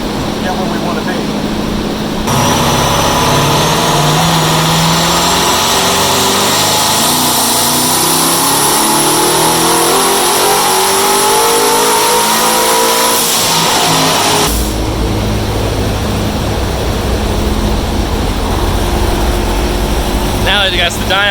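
A twin-turbo C7 Corvette engine revs hard on a dyno, producing a loud, sustained roar that climbs in pitch for several seconds before abruptly shifting to a lower, steady drone.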